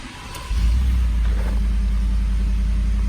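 A 2019 Ford F-150 XLT with a 5.0 liter V8 fires up by remote start about half a second in, then settles into a steady, loud, deep rumbling idle close by, with no talking.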